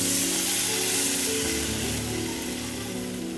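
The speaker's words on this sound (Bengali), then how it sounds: "ভাজা হয়ে গেছে বন্ধুরা, এবার জল দিয়ে দেবো।" Water hits a hot pan of fried hilsa fish and pieces, producing a loud, broad sizzling rush that slowly eases over a few seconds.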